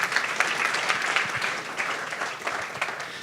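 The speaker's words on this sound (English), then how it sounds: "Everybody give him a round of applause" Audience applause at a startup demo day, a dense steady wash of many hands clapping throughout, fairly loud and close, with no talk over it.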